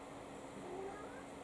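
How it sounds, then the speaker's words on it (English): A house cat chirps softly, a faint, brief trill over a steady low background hum. "the cat's chippering in today"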